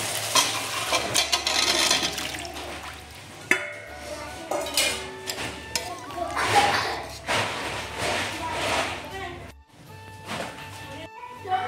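Boiled chubri potatoes, cooked earlier with salt and turmeric, are stirred into a spice masala in a pan, with steady scraping and clatter of a spoon against metal over a soft sizzle, close and fairly loud.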